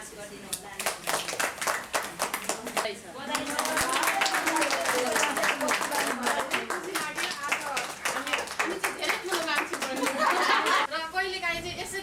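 An audience at an annual general meeting claps to pass a motion, sustained brisk applause from many hands at moderate distance, with voices talking over it.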